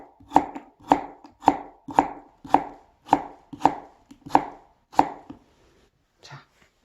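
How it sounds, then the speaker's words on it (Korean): Thin slices cut with a knife on a board, eight sharp, steady strikes in a regular rhythm, close and distinct, then a pause and a faint last tap. "얘도 여러분들이 가장 얇게 썰 수 있을 것 같다라는 느낌으로 썰면"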